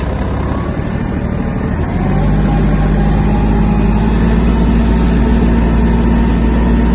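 A Kubota GL-200 Japanese mini tractor engine runs steadily at close range, its low rumble growing slightly heavier after a couple of seconds as the machine moves off.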